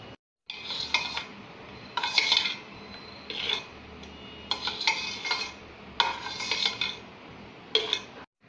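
A spoon stirs a yogurt raita mixture with black pepper powder in a bowl, making close scraping clinks that come in several short bursts separated by pauses, with no voices.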